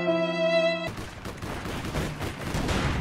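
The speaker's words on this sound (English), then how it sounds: "Shooting galore." A brief synthetic tone cuts to a burst of rapid gunfire in the online shooter APB Reloaded, dense overlapping shots crackling continuously at moderate loudness for a few seconds.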